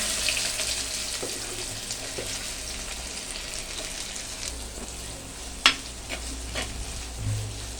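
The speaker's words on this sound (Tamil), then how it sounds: "அடுத்தது வெங்காயம் போட்டுக்கலாம்" Two medium onions, finely chopped, fry in a pan for a Tamil dry chilli chicken, with a steady close sizzle and occasional stirring scrapes and a sharp clack near the middle.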